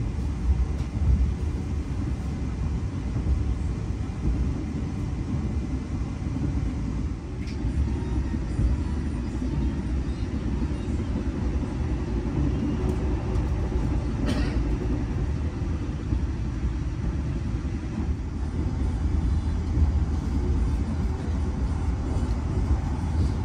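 Majapahit economy passenger train running on rails as heard from inside, a constant low rumble and wheel roar with faint rhythmic clicks and occasional sharp rattles, no talking.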